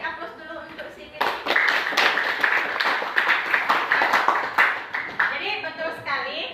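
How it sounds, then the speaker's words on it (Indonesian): Classroom applause for a student, a burst of many hands clapping for several seconds, fairly close and lively, with a voice speaking just before and after. "Beri aplaus dulu untuk si Fitri."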